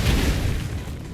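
A booming explosion skill effect from the Striker class in Black Desert Online, a sustained, heavy low rumble that stays loud throughout before easing slightly.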